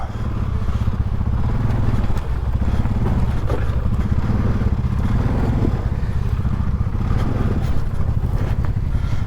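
A 2022 Polaris Sportsman 570 ATV engine labors steadily in low four-wheel drive while climbing a slippery slope, a loud continuous rumble mixed with clattering from the terrain.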